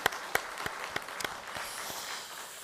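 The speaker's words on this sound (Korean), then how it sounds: "수고하신 분들에서 감사의 박수 한번 보내드릴까요?" Church congregation clapping in thanks, a few distinct sharp claps up close over a softer, scattered applause that thins out.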